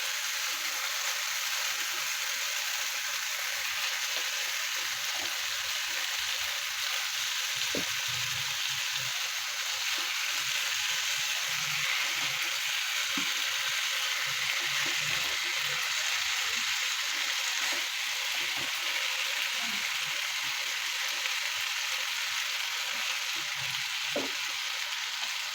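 Marinated fish sizzles steadily in a hot pan, a continuous frying hiss through the whole stretch with occasional louder spits and pops, no voices over it.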